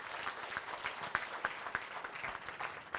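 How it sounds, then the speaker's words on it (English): Audience applause at an international education conference, a steady wash of many hands clapping with sharper individual claps popping through, fairly close and continuous. "let's give another big resounding sound of applause."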